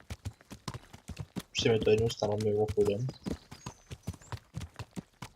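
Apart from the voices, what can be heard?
horse hooves walking in Kingdom Come: Deliverance video game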